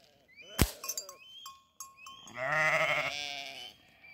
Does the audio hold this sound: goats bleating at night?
yes